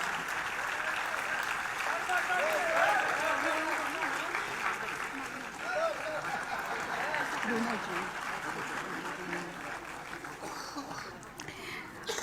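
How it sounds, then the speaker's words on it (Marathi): An audience at a ceremony claps steadily and loudly for several seconds, the applause dense and continuous before thinning out toward the end. "जोरदार टाळ्या वाजवून आपण या भावनेमध्ये सहभागी होऊया"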